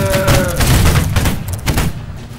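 Musket volley fire from a line of infantry in Holdfast: Nations At War during a team linebattle, a ragged crackle of many near and distant shots over about two seconds, booming and overlapping, then fading out.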